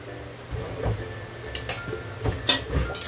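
Curry of ilish fish head with ash gourd is stirred in a pot after sugar goes in, with a run of close metallic scrapes and clinks of a spoon against the pot at an uneven pace, no talking.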